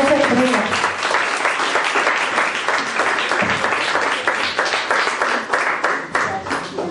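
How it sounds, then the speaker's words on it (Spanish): A church congregation applauds a sister during a Mother's Day service, steady dense clapping filling the room throughout with some voices mixed in. "vamos a regalarle un aplauso a la hermana"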